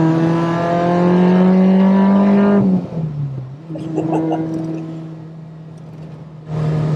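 A supercharged K20-engined Honda Civic Type R EK9 revs hard under load, holding a loud, rising engine note with supercharger whine, then backs off and builds again, close and with no voices.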